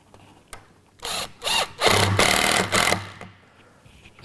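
Power drill driving a screw into wood: several short whirring bursts of the close drill motor, the longest near the middle, then a quieter tail after the last burst, with no talk.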